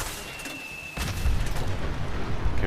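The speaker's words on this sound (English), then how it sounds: "It's a nice little blue explosion there." A nuke launcher fires in the Fallout 4 video game, setting off a booming blue explosion that swells into a loud, rumbling roar and lingers with crackling debris.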